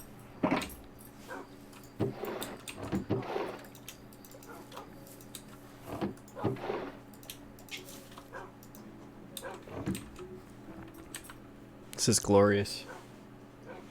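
Pet dogs in a home office, with several short, faint yips and whimpers scattered through a steady room hum while a person talks nearby.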